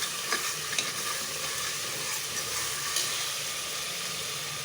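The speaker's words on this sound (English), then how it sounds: "Stir that a bit." Ginger garlic paste stirred in a frying pan for a Grandma-style chana and vegetable korma, a steady close sizzle with soft scraping strokes and a few light clicks, no voices.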